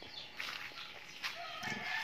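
Broiler chickens clucking and calling in a close, crowded coop, with overlapping bird sounds continuing throughout.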